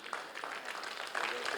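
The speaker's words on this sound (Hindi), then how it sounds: "जोरदार तालियां इस बैच के लिए।" Dense applause from a theatre audience for a batch of drama workshop performers, a steady hiss-like wash of clapping with voices mixed in underneath.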